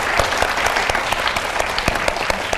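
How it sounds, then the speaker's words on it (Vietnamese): Studio audience applause fills the room at a Vietnamese TV show, a dense steady patter of many hands clapping without a break. "Cái tiếng vỗ tay như vậy đó là một cái sự ủng hộ"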